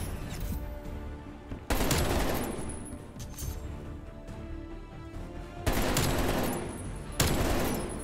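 Rapid gunfire from the video game Call of Duty Cold War in a free-for-all match, loud bursts of automatic shots in several dense volleys with quieter gaps between.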